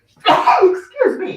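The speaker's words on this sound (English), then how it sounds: "Traditionally, I sneeze during lives." A single close, loud human sneeze during a live stream, a sharp burst that trails off with a short second exhalation before the clip ends.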